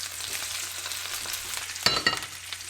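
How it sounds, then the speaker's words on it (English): Oil crackles and sizzles steadily as chicken pieces fry close by, with a few louder spattering pops near the end. "And it takes about 4 or 5 minutes to fry them."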